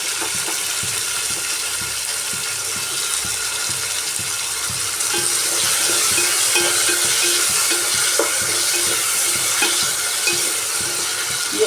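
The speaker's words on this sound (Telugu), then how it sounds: "ఈ ఒక్క 5 మినిట్స్ కొంచెం ఫ్రై అవనిద్దామండి." Onions and sliced tomatoes fry for sambar in a pan, giving a steady, loud sizzle with soft stirring scrapes running throughout and no voices.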